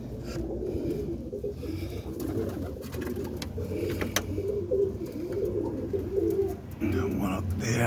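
Pigeons cooing inside a coop amid constant low rustling and shuffling, soft repeated coos layered over a busy, dense background, with occasional louder knocks.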